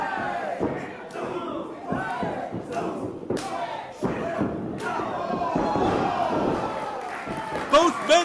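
Professional wrestling match between two wrestlers trading knockout strikes, dull thuds and slams landing repeatedly amid a loud roaring crowd with shouting voices throughout.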